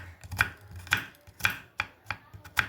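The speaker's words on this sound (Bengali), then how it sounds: "এখানে পেঁয়াজটা একেবারে মিহি মিহি করে কেটে নিচ্ছি।" An onion is chopped finely with a knife on a cutting board, giving five sharp, close, loud knocks at a steady rhythm about half a second apart, with no talk.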